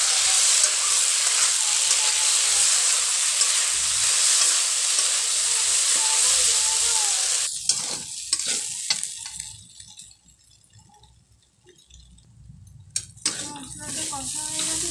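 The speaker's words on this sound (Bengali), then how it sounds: "এবার আমি এতে বেটে রাখা মশলাটা দিয়ে দেবো, দিয়ে দেবো অল্প পরিমাণ হলুদ, ভালোভাবে কষে নেব।" Ground spice paste and turmeric sizzle loudly in hot oil for a banana flower curry, with stirring scrapes, before the frying dies down to quieter clinks and scrapes in the pan.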